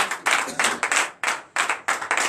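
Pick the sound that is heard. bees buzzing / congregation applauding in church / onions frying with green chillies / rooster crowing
congregation applauding in church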